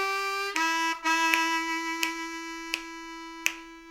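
Harmonica playing the opening blues lick of Baby Please Don't Go on an A harmonica, Paul Butterfield style: sustained reedy chord tones broken by several sharp rhythmic attacks, close and clear with no talking.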